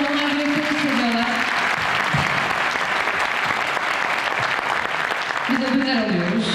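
Loud, dense crowd applause at an award event, with a voice speaking briefly over it at the start and again at the end.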